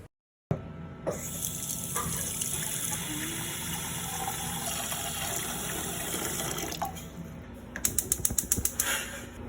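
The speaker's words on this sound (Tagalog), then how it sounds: "Magpapakulo lang tayo dito ng tubig" Tap water gushes steadily into a cooking pot, filling it for boiling macaroni noodles, a close continuous splash that ends in a few clanks of the pot.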